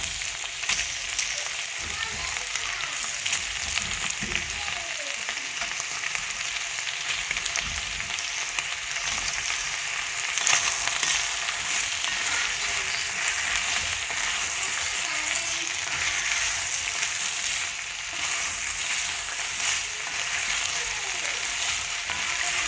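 Potatoes and beef stew meat sizzle in a Nutri Ninja multi cooker, a steady crackling fry heard close for a long stretch, with occasional stirring scrapes.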